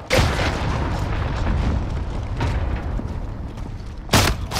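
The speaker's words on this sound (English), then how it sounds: "Enemy cruise missile." A cruise missile strike in Call of Duty: Modern Warfare booms and rumbles loudly throughout, with a sharper blast near the end.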